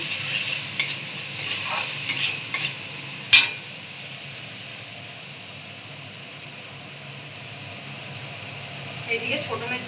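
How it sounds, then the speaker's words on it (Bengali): Spice paste with turmeric stir-fried in a pan, a steady soft sizzle with scattered scraping stirs and one sharp clink near the start, quieter stretch in the middle. "হলুদ দেবো, মশলাটা ভালো করে কষিয়ে নেবো।"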